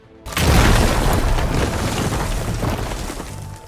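Explosion effects from the video game Horizon Forbidden West: one sudden, loud, deep boom bursts in after a brief silence, then a dense, roaring rumble that fades slowly and stays heavy to the end.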